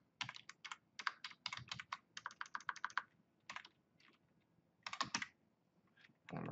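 Close, quiet typing on a computer keyboard, in quick bursts of keystrokes separated by short pauses.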